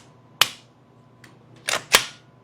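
Sharp cracking shots from a Scorpion Evo gun, one near report followed after a pause by a faint pop and then two quick loud bangs, with no talk.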